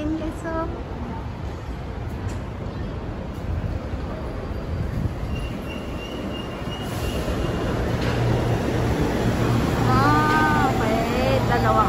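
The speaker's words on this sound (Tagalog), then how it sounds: "Ito ng train guys" A new Macau train runs with a steady low rumble and rising rolling noise that grows louder toward the end, a brief high squeal near the close, and people chatting faintly underneath.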